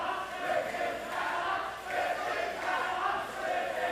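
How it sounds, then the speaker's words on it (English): Wrestling fans in an arena crowd chant in a steady rolling rhythm, the noise swelling and dipping in waves throughout at a moderate distance with no clear voice standing out. "Freddie Fantastic does not like what the fans are chanting now."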